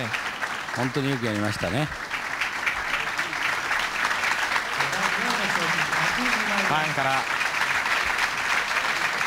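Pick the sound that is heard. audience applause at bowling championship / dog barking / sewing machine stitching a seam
audience applause at bowling championship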